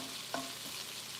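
Food frying in a pan for West African red rice, a faint steady sizzle with a brief stir near the start, no voices.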